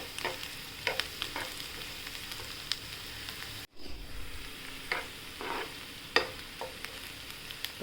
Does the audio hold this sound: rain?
no